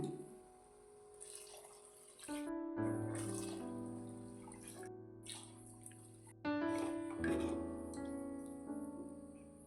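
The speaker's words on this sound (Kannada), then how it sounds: "ಇವಾಗ ನೀರು ಹಾಕ್ಕೊಳ್ಳೋಣ" Water is poured into a rice mixture in a vessel, a close, gurgling, ringing splash that swells in two bursts with a hollow tonal resonance, with no talking.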